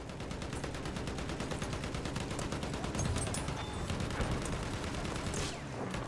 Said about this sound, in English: Machine gun over there!